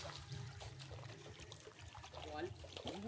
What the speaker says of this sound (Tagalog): Yung bulwak na yan, sa kawayan galing yan.